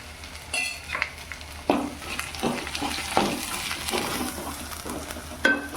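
Red masala with turmeric being stirred and fried in a pan for mutton kalji, a steady sizzle broken by repeated scraping strokes of a spoon, close and fairly loud with no talking.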